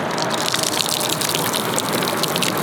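Gasoline pours out of a cracked gas tank in a steady, close, loud gushing stream of liquid that runs unbroken throughout and cuts off abruptly at the end.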